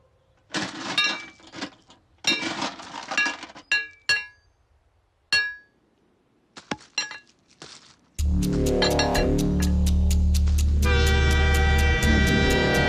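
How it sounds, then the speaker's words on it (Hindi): In a Hindi-dubbed Hollywood adventure film scene, scattered clinks and knocks give way to an approaching train whose loud, sustained horn blares continuously with rail rumble for the last five seconds. "अरे एक लड़का लेटा हुआ है पटरी पर, ट्रेन आ रही है"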